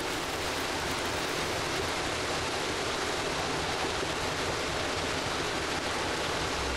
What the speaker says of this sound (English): It's a big ass waterfall.